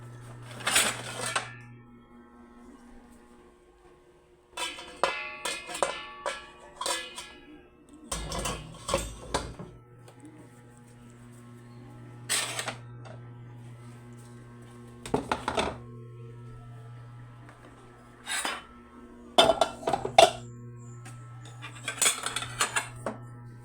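Dishes and cooking pots being washed, with repeated clatters and clinks of metal and ceramic ware at close range, set against a steady low hum and scattered bursts of running water.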